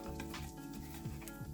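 Hot cross bun French toast sizzles steadily in a frying pan just after being flipped, a soft, even crackle with faint spatter close by and no talking.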